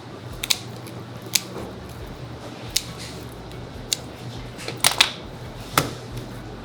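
A kitchen knife cuts through a whole fish. Sharp crisp snips and crunches come at irregular intervals, close and fairly loud, over a quiet background with no talking.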